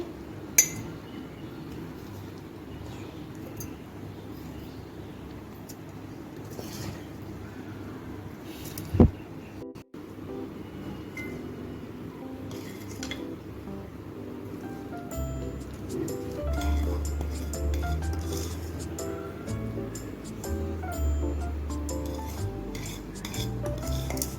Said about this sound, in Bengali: আমগুলি একটা বোমের মধ্যে ভরে নিচ্ছি